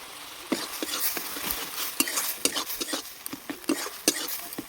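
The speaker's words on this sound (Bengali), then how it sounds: "লঙ্কা গুঁড়োটা কষিয়ে নিয়ে ভালো করে মশলাটা একটু ভালো করে কষিয়ে নিয়ে তারপর জল দেবো" Ginger, garlic, chili and cumin paste with chili powder fries in a pan while a spoon stirs and scrapes, giving soft irregular clinks and scrapes over a faint sizzle, close and quiet.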